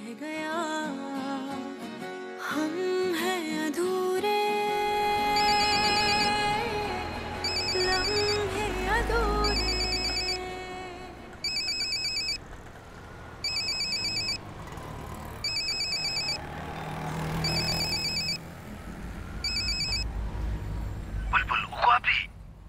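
A phone ringtone repeats in short, regular bursts and goes unanswered, sounding over dramatic background music in a Hindi television drama scene.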